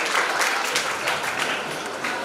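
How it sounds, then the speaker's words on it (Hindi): Audience at a Shiv Mahapuran religious gathering in Ujjain applauding loudly, a dense sustained wash of many hands clapping throughout. "जोरदार ताली बजा दो।"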